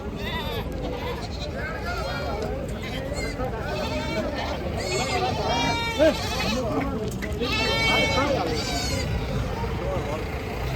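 Several goats bleat in bursts amid a busy outdoor crowd at a livestock market as goats are unloaded from vehicles, with people talking nearby throughout.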